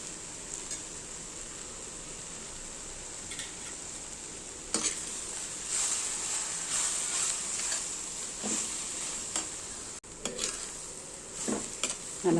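Grated coconut tipped into cabbage poriyal in a clay pot and mixed through, a steady low sizzle under scraping stirs with a few louder clatters of the spoon against the pot.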